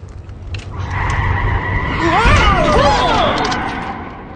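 A car's tires squeal as it skids to a stop. The wavering shriek rises after the first couple of seconds, with engine rumble and noise underneath.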